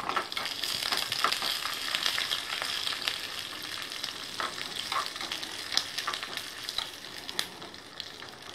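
Almonds fry in a pan for semolina (rava) payasam, a steady close sizzle with scattered crackles and faint stirring throughout, no talk.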